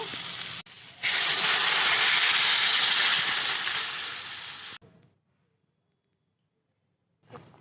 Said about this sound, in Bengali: মশলাটা প্রায় ভাজা হয়ে গেছে, এবার আমি একটু জল দিয়ে দেব।